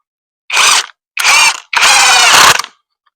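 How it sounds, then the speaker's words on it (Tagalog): Ingco impact driver fitted with an impact screwdriver bit driving a screw: three loud, close bursts of whirring, rattling hammer action, two short and then a longer run, with brief pauses between. "Impact tools po ito. Dito natin try. Ito yung ating tornilyo."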